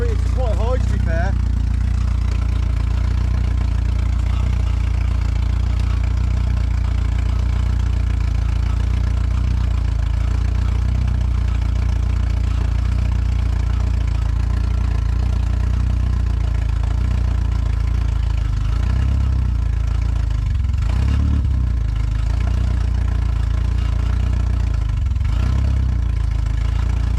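An abandoned Honda engine found in a field runs and idles, a loud steady mid-pitched drone that stays even throughout, with a few rougher surges near the end and voices talking over it.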